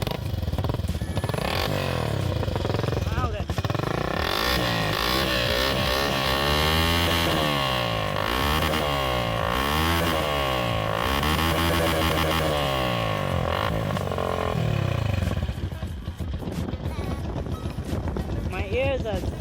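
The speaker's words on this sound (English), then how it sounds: "the final thing that I do really hate about this bike is this exhaust over here" A Zongshen Infinity SR-150 motorcycle exhaust revs loudly and close by, its raspy, buzzing note climbing and falling in repeated throttle blips, with someone talking over it.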